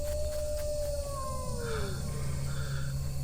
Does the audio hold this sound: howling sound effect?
yes